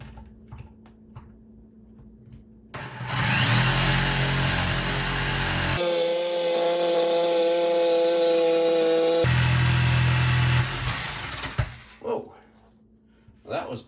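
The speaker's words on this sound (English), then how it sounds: "Not bad for my first cut using a jigsaw." Jigsaw blade cutting a hole through an old wooden exterior door for a cat door, a loud steady buzzing saw run of about nine seconds with a pitch shift midway, starting and stopping abruptly between quieter handling sounds.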